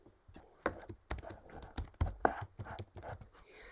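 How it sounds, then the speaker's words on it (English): Keys tapped on a computer keyboard in short irregular bursts of clicks, close and fairly quiet, with brief pauses between keystrokes. "Let's type in Floriani."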